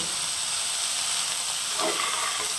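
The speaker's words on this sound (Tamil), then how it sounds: "இதெல்லாம் சேர்ந்து இப்போ காய் நல்லா வதங்கட்டும்." Vegetables sautéing in a pan with salt, turmeric and asafoetida for vangi bath, giving a steady soft hiss and sizzle throughout with no talk.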